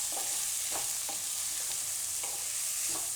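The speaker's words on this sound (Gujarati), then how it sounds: "ડુંગળી થોડીક વાર પાકવા દેવું. વચ્ચે વચ્ચે આપણે હલાવતા રહીશું આ રીતે." Onions fry in a pan with a constant, close sizzle, while a spoon stirs them in regular scraping strokes roughly every half second.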